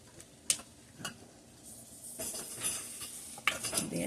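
A utensil scrapes and clinks against a pot while melting almond bark is stirred, with a few sharp taps and a soft sizzle rising toward the end, quiet and close.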